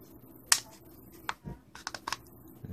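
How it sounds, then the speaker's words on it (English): Plastic back cover of a Motorola Moto E phone clicks as it unclips while pried open by fingernail, a few sharp, close, quiet snaps spread across a couple of seconds with no talking. "And you hear it unclicking."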